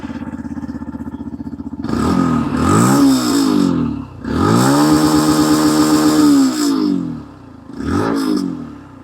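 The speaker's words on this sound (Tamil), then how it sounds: "இப்போ வாங்க எக்ஸாஸ்ட் சவுண்ட் கேட்போம் நம்ம." Exhaust of a Yamaha FZS V4 Hybrid motorcycle, loud and close, idling in a steady low thrum and then revved in three bursts that rise and fall, with the engine settling back to idle between them.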